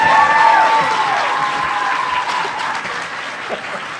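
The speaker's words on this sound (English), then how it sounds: "let's go to the audience. Yeah, you clap for them." A convention panel audience claps steadily, a dense wash of applause with a few faint whistle-like tones early on.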